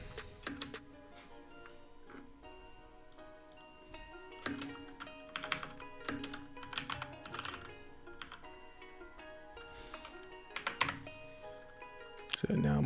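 Rapid keystrokes clatter on a computer keyboard in irregular bursts and single taps, close and crisp, with a person talking over the typing.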